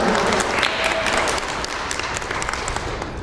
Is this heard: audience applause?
yes